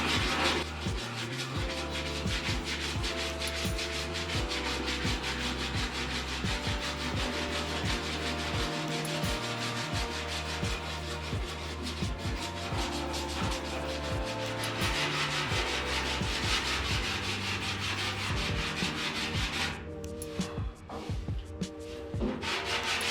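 Steady hand sanding on a body panel of a 1949 Jeep Willys pickup, a continuous close rasping scrub with rhythmic back-and-forth strokes, briefly pausing near the end.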